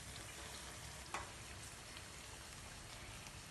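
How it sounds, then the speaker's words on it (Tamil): Bungalow palagaram snack frying in a pan of hot oil, a steady close sizzle with a single sharp tap near the middle as a piece is flipped. "திருப்பி திருப்பி போட்டு வேக வச்சுக்கோங்க."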